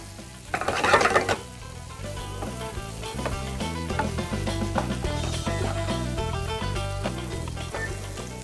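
Potatoes and garlic sizzling steadily in a pan as they are stirred, with a brief louder scrape near the start, then an even, continuous frying hiss under soft background music.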